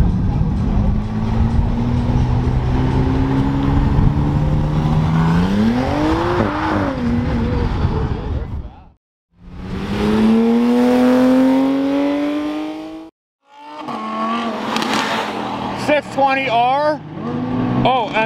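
A McLaren Artura car drives past loudly with a rising engine note. Further passes follow, with gear-shift dips and revs, and voices talk over parts of the passes.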